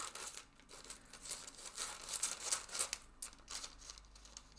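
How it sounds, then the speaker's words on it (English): Scissors snip through two folded layers of greaseproof paper while cutting out a snowflake shape for needle felting, giving close, crisp crinkling and tearing sounds in an uneven rhythm with no talking. "you're cutting through both layers of the greaseproof paper"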